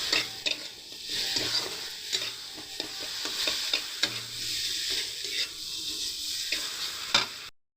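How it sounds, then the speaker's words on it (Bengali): Spice paste with ground cumin fries in oil for cauliflower dalna, a constant sizzle broken by frequent sharp clicks and scrapes of a spatula stirring against the pan. "ভালো করে এবারে মশলাটা কষিয়ে নেব"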